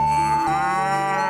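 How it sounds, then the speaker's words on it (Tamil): A cow moos once in a long, sustained, loud low call that lasts the whole moment, with a strong steady tone and a slight shift partway through, and no voices over it. "என்ன மாடு கத்துது?"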